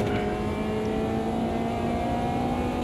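Club class race car engine in Automobilista 2 on the Bannochbrae street circuit, a steady loud drone with a sustained mid-pitched tone and harmonics, held at constant revs throughout with no talking.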